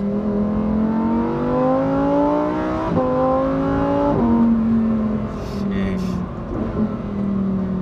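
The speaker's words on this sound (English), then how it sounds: "you hear all the noises, you hear the engine back there" A Lamborghini Huracan STO's V10 engine revs close by, its pitch climbing and dropping through several throttle blips, with a brief exclaimed voice over it.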